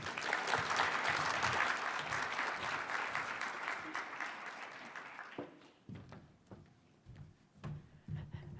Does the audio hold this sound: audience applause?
yes